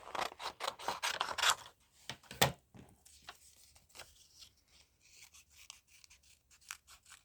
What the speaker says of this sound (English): Let's use our bigger scissors just to cut it out from the page.